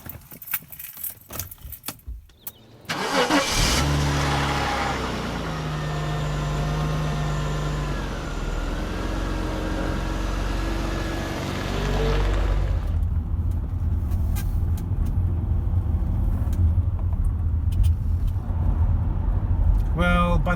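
A Jaguar XJ X300 saloon on the move: a steady low engine and road drone starts after a few seconds of quieter handling noise and continues close and even throughout, with some clatter near the start.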